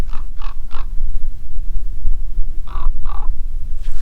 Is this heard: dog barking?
no